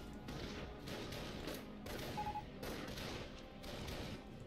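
Faint, distant battlefield gunfire in the World War II strategy game Company of Heroes 2, with repeated rattling bursts and thuds coming in uneven waves throughout the clip.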